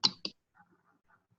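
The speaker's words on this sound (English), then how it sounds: "I'm right clicking their name, opening in a new tab," Two quick, crisp computer mouse clicks sound close together near the start, followed by faint low murmuring.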